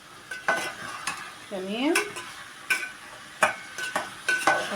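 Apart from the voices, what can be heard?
stir-frying minced meat and zucchini in a pan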